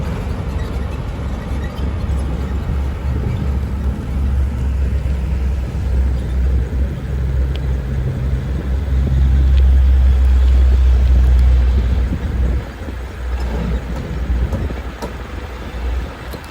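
Steady, loud rumble of cars and two-wheelers crossing the Keramasan bridge, a continuous low roar that swells around the middle as heavier vehicles pass close by, with no voices.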